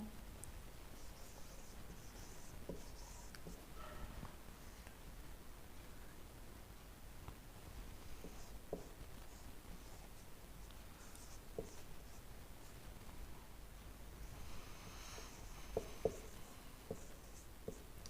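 Marker or chalk scratches across a board during an alphabet lesson, faint scattered strokes and taps against a quiet hiss, with no talking.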